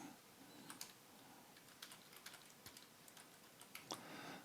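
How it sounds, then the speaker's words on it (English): Soft, quiet tapping on a computer keyboard as text is entered, with short irregular clusters of keystrokes close by and no voices. "You click into it, type in your text."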